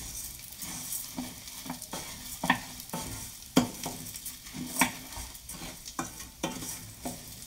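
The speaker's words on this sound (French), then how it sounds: "le riz est en train, en fin de compte, de se colorer avec l'huile" Rice sizzling in oil while being stirred, with repeated scraping and clinking of a utensil against the pan at an uneven rhythm.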